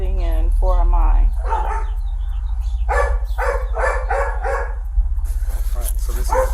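Several dogs bark in bursts close by, sharp repeated woofs and yips with short pauses between them, over a steady low hum in the background.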